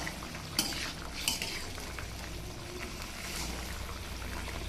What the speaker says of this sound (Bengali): আমি ঝোলের ভিতরে মাছ দিয়ে দিলাম।